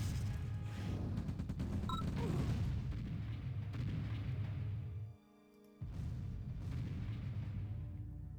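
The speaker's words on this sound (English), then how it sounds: "some good artillery hits" Artillery fire in a strategy video game's 1v1 match, a dense stream of booming blasts and rumbling impacts under continuous game noise, dropping out briefly before resuming.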